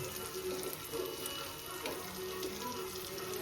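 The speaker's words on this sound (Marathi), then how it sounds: "आपण मोठ्या एक साईड फ्राय झाल्यात आपण पलटी करू आता" Creek prawns and fish fry in a pan, a soft continuous sizzle with faint crackles, fairly quiet and close, with no talking.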